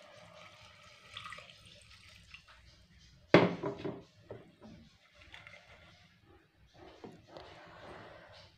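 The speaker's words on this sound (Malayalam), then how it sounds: "നമുക്ക് വേവാൻ ആവശ്യമായ വെള്ളം ഒഴിക്കാം" Water is poured into a cooking pot for a dal and raw plantain curry: a sudden close splash and clatter mid-way, followed by a short trickle and faint kitchen clinks.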